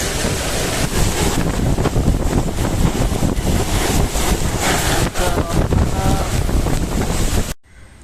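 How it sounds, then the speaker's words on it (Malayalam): Strong stormy wind with rain on the Kerala coast roars loud and constant, buffeting the microphone with heavy gusts for several seconds before cutting off abruptly near the end. "ഭയങ്കര കാറ്റും മഴയൊക്കെ വരുന്നുണ്ട്"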